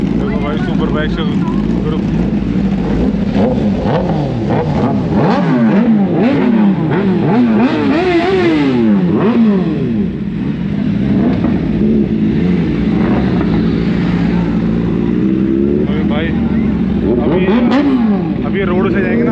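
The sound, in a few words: Kawasaki ZX10R superbike engine sound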